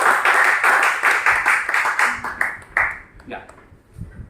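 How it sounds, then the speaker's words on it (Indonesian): A short round of clapping that fades out after a few seconds, leaving a few scattered claps. "Luar biasa. Tepuk tangan."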